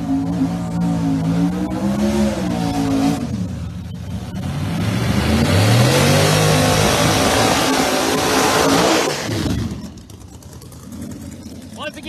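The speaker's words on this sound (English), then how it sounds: "with that so solid 302 cubic inch Coyote motor" Drag racing cars launching at a 28-inch tire street car event, one powered by a Ford 302 cubic inch Coyote V8; a loud, sustained engine roar swells mid-run over an announcer's talk, then fades as speech returns.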